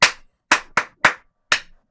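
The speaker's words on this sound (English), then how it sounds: "Do you want to clap it for us?" A single pair of hands claps a rhythm during a music sight-reading lesson: five sharp, close claps in an uneven pattern with silence between them.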